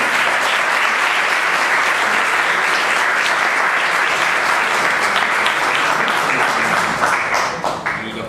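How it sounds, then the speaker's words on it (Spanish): Dense, loud applause from a large audience, sustained and even, thinning into scattered claps at the very end. "así que bueno, hacemos un aplauso."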